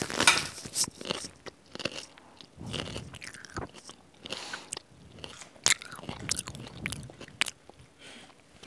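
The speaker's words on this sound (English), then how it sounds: "I'm going to be eating this cucumber." Crunchy bites into a raw cucumber followed by wet chewing and crackling, recorded close and intimate, with repeated sharp bite snaps spread through the stretch and no talking.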